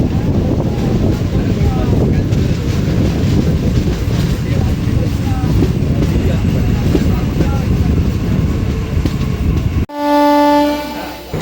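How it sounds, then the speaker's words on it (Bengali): Ranaghat–Gede local train pulls away from Shantinagar Halt with a loud, steady rumble and rattle of wheels on rails, heavy wind buffeting underneath, then a long, loud horn blast near the end. "শান্তিনগর হল্ট থেকে আমাদের ট্রেন ছেড়ে দিল।"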